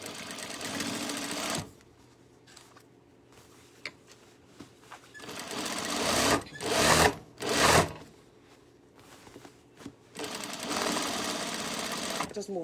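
Sewing machine sewing a half-inch seam on a tote bag in steady runs, close up, with a quieter stretch in the middle and brief louder handling noises.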